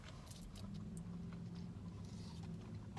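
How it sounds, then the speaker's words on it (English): Rain falls in a steady, soft patter with scattered louder drips and taps near a porch. "It's raining."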